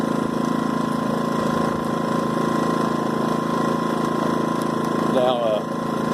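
A small portable generator engine runs steadily after being taken off choke and set to run, a constant mid-pitched droning hum with a faint hiss, loud and close, sounding unbroken throughout.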